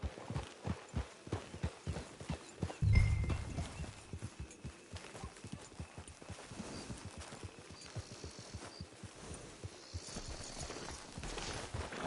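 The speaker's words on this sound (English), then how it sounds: "Get your horse." A horse walks with steady, even clip-clop hoofbeats throughout at a camp, with a brief louder snort or whinny early on; the hooves are close and continuous, without talk.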